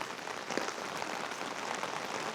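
Rain on a wet day at a university campus, a dense, even hiss of drops hitting surfaces, steady and moderately quiet throughout, with no talk.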